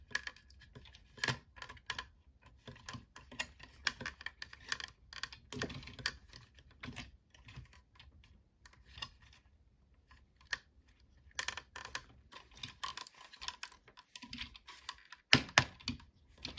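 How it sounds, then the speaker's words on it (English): Legs of a Power Rangers Lightning Collection Astro Megazord toy ratcheting, a series of quiet, close plastic clicks in uneven bursts with short pauses between turns. "legs ratchet around like that"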